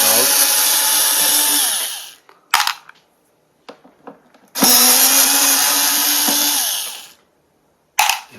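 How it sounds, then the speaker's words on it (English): A power screwdriver or drill whirs in two long bursts while removing screws from a Korg Triton Le keyboard's top cover, with short clicks and handling noises between bursts and a brief start of a third. "That's why I'm going to take just these screws out."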